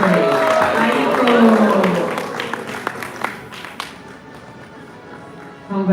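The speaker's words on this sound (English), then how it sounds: "So I believe they deserve another round of applause." Audience applause at an award ceremony honouring community heroes: a dense, sustained wash of clapping that swells early and gradually thins into scattered claps, with a voice talking over it.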